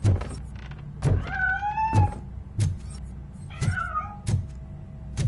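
A cat meows in the RoboCop video game, giving two drawn-out, wavering meows close by, set among sharp mechanical clanks and a low hum.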